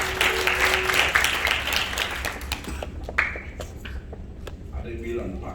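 A church congregation at an anniversary worship service claps enthusiastically, dense applause filling the first few seconds before thinning into scattered claps mixed with voices and room noise.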